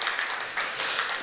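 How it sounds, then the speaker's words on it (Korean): A church congregation claps in encouragement, a dense burst of many hands that fills the room steadily without pause. "우리 격려 박수 한번 부탁드릴까요?"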